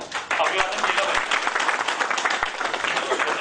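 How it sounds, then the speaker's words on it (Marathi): Audience applause at a Marathi startup awards ceremony, a broad steady wash of clapping that fills the room for several seconds without letting up. "त्यांचं तुम्ही नक्कीच टाळ्या वाजून अभिवादन केलं पाहिजे"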